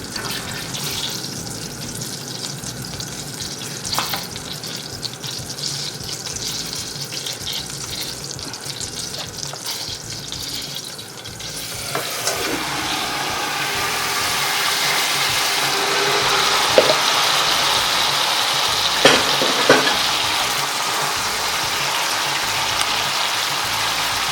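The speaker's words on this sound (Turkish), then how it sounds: "Tereyağımızı kızdırdık. Şimdi içerisine tavuğumuzu ekleyeceğiz." Steady sizzling of chicken frying in hot butter, growing louder and more crackly partway through, with occasional clinks and no talking.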